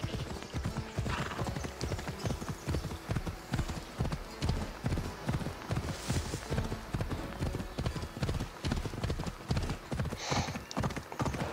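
Hooves clip-clop in a fast, steady galloping rhythm as a horse runs in the video game Assassin's Creed Odyssey, close and clear, with faint snorting at moments.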